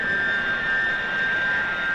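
A spaceship's rocket motor drones steadily as a radio-drama effect, a constant loud roar with a sustained high whine running through it and no break.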